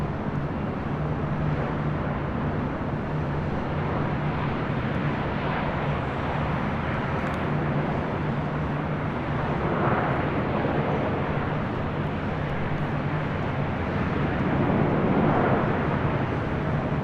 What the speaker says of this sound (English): Next arrival, Southwest Airlines flight 1592, coming in from Sacramento